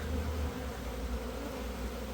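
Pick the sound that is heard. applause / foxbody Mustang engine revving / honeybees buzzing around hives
honeybees buzzing around hives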